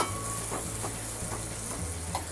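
Dry prawns and onion fry in a pan over high heat, with a continuous close sizzle broken by a few scraping stirs of a spoon.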